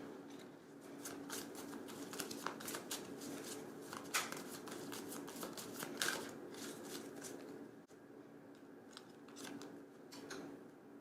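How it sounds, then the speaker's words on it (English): Oracle cards being shuffled by hand, a run of quick riffling flutters and soft card slaps, close and quiet, then a card drawn near the end. "I'm going to pull an oracle card."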